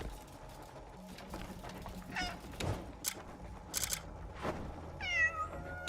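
A cat-like creature in Crimson Desert gives several wavering, meow-like cries, the last a longer drawn-out call, over a low background hum with a few sharp clicks.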